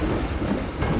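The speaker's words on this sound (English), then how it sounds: "try to stop this train right here" A train rolls along the tracks in the Garry's Mod video game, giving a short, steady, noisy rumble with a faint rhythmic clatter.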